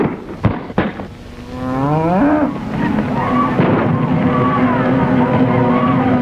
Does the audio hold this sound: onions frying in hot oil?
no